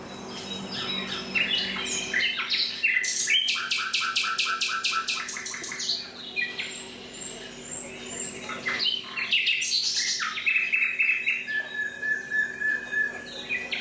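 A chorus of nightingales sings in Spain, several birds overlapping in rich, varied phrases of rapid repeated notes, whistles and trills, fairly close and clear over a quiet background, with no talking.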